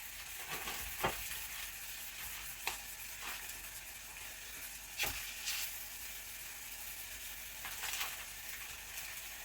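Beef burgers frying in olive oil give off a steady, even sizzle, with a few soft clicks and pops here and there. The sound is close and low, with no voices.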